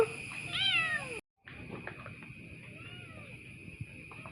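A mother cat gives one clear, close meow, followed by a short silence and then quieter background rustling.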